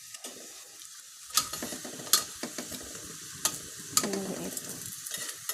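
Saba bananas fry in hot oil with a steady crackling sizzle, broken by sharp clacks and scrapes of a utensil turning them in the pan; a voice briefly murmurs a word.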